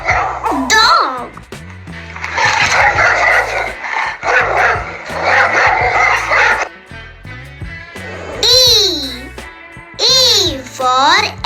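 A dog barks and yips several times amid children's voices and bright background music.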